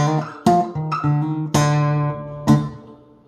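A few plucked low, resonant notes and chords on a Spector Timbre acoustic bass through a ToneWood amp, ringing out with a roomy reverb tail, struck several times in a loose rhythm, no talking.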